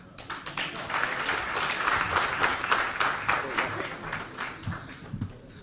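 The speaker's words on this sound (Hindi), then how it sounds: "सब लोग इस कलाकार के लिए बहुत जोरदार तालियां बजाइए" Sustained applause from an audience at a Hindi-language water-management lecture event honoring an artist, dense steady clapping for several seconds with a few louder claps near the end.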